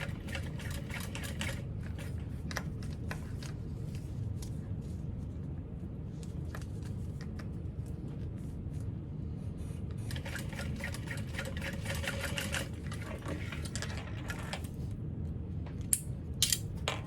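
A sewing machine top stitches a barrel bag with a steady, fast mechanical chatter that runs throughout, close and moderately loud. A few brief slows and metallic clicks break the run near the end.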